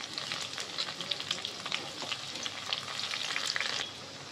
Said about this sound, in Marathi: आपण आता कांदा कढई तापले, कांदा परतायला टाकूया